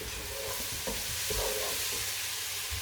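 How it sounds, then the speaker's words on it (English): Onion, capsicum, garlic, bacon and pepperoni sizzle and fry in olive oil in a pan, a steady close hiss with a few stirring scrapes, no talking. "So it'll sizzle up a bit, and the onions and the garlic will particularly like this."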